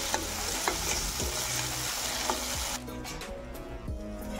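Tomatoes and onions sizzle in a pan with a constant close crackle and the occasional scrape of stirring. The sizzle drops slightly in loudness partway through.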